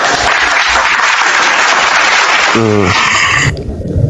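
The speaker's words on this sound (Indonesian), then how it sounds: "Tepuk tangan dulu kalau begitu ya." An audience at a religious talk breaks into dense, loud applause that rolls on steadily, broken by a short tonal cry near the middle, then cuts off abruptly near the end.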